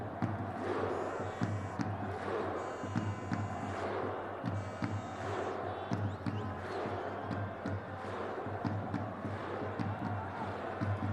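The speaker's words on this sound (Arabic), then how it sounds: "ونسمع الجماهير دهوك على طريقة التشجيع الأيسلندي" Duhok football fans in the stands at Duhok stadium perform an Icelandic-style clap chant, with rhythmic, evenly spaced claps and crowd shouts repeating over a steady murmur of the crowd.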